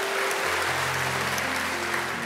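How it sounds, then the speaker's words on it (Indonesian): Church congregation applauding during a worship service, a steady broadband wash of clapping with a low sustained organ or keyboard tone underneath, no talk over it. "Berikan tepuk tangan bagi dia."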